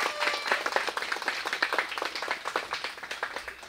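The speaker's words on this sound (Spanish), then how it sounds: "Le demos un aplauso a nuestro Padre Dios por este agradecimiento." Audience applause at a church thanksgiving service with a morning serenade: steady, dense clapping from a gathered crowd that lasts throughout, close and moderately loud, with no talking over it.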